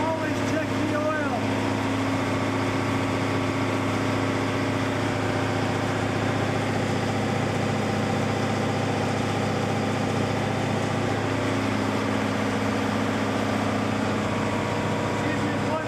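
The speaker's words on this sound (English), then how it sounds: "I'll show you how to fire up the main engine." A fishing boat's main engine idles in the Deadliest Catch video game, a steady low drone with a constant hum that runs unchanged throughout at moderate loudness, with no voices over it.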